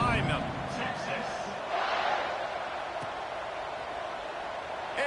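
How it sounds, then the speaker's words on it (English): Stadium crowd noise from a college football video game, a broad steady roar with swelling cheers as the teams set up for a kickoff, heard under a commentator's voice. "this crowd now ready to get behind them"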